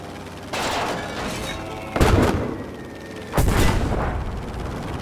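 Gunfire in Battlefield V crashes out in three loud, broad bursts of shots and booms, each ringing out briefly before the next, with no talking over them.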